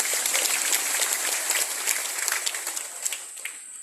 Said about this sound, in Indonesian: Tepuk tangan yang meriah untuk beliau.